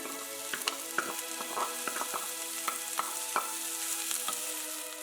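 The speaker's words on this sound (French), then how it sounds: "je fais dorer légèrement au beurre l'oignon rouge ciselé, auquel j'ajoute ensuite les lardons fumés" Chopped red onion and smoked bacon lardons sizzle in butter in a pan, giving a steady, close frying hiss broken by scattered crackles and pops.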